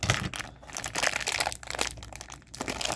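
Plastic packaging for model train cars crinkles and crunches as it is pulled open by hand, close and continuous, with sharp tearing bursts and no talk.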